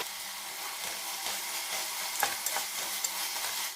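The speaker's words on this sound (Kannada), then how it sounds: "ಕ್ಯಾಪ್ಸಿಕಮ್ ಹಾಕಿದ್ಮೇಲೆ ಒಂದ್ಸರಿ ಚೆನ್ನಾಗಿ ಬಾಡಿಸಿ." Capsicum slices stir-fried in a pan for paneer pulao, a steady soft sizzle with occasional scraping stirs and light clinks, close and alone.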